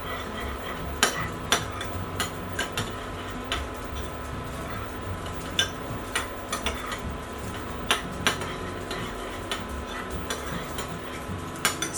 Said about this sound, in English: Stir it up to combine and set it aside for our amazing cauliflower.